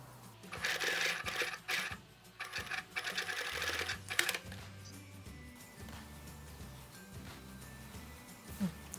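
A sewing machine stitches cotton fabric for a child's backpack in loud, close bursts of rapid mechanical chatter, separated by short pauses and soft handling noises.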